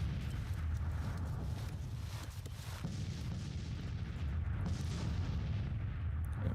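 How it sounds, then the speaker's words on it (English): Artillery fire in the Civil War strategy game Grand Tactician: dense, continuous booming and rumbling of cannons, loud and steady throughout, with no voices over it. "These guns are firing."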